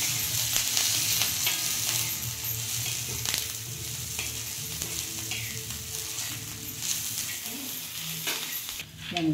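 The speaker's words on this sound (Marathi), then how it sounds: "थोडंसं तेल टाकून घ्यायचं, चांगली परतून घ्यायची मिरची" Oil sizzles and crackles steadily in a pan, with occasional stirring scrapes as chilies fry close by.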